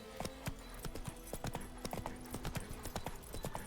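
A horse's hooves trotting in The Witcher 3, a rapid, steady clip-clop rhythm of sharp, close impacts running throughout over a low ambient bed.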